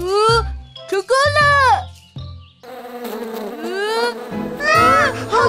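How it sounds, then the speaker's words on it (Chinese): Cartoon bees swarming, their buzzing heard in bursts between and under excited children's voices, with a denser buzz building toward the end. "好多蜜蜂。"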